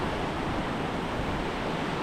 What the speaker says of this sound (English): Spokane Falls holds the distinction of being one of the largest urban waterfalls in the United States.